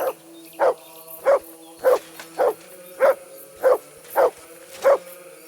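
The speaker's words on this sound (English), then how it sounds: "Aye, aye, you silly doggy." A dog barking in the medieval video game Kingdom Come: Deliverance II, giving about nine evenly spaced single woofs at a steady rhythm, close and clear over a quiet background.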